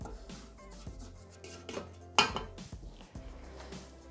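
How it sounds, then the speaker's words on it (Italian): A spatula scrapes and clinks against the steel Thermomix bowl while orange pastry cream is being made, giving soft rubbing strokes and one sharper metallic knock, quiet and close. "Riuniamo sul fondo del boccale con la spatola."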